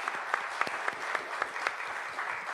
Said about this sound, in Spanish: Un fuerte, fuerte aplauso.